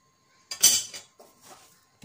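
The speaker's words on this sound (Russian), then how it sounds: "Перемешиваем." A spoon clinks and scrapes against a pan while broccoli is stirred in sour cream garlic sauce, with a few short close knocks separated by brief silences.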